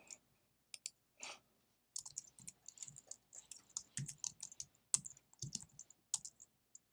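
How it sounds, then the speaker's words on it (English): Quick, crisp computer mouse clicks, many coming in close pairs as double clicks, sound close by and isolated against near silence. "I've got Chris, double click and copy."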